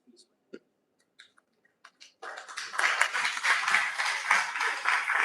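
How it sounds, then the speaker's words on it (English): Applause for a graduating student at a Gandhinagar University ceremony: after a few scattered claps and faint sounds, a crowd breaks into sustained, dense clapping that holds steady and fairly loud to the end. "Students and faculty members, a huge round of applause, please."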